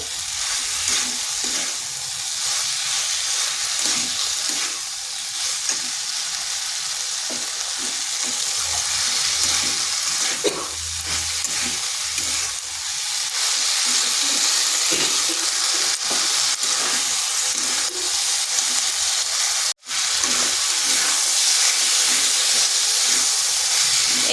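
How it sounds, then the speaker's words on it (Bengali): Fig curry being sautéed with spices in a pan, with a steady loud sizzle and hiss throughout and occasional stirring scrapes underneath; no talking. "এরপরে মশলার সাথে ভালো করে কষিয়ে নেব"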